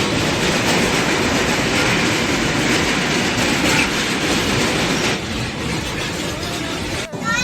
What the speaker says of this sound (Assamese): আমি এখন ট্ৰেইনত আহিছোঁ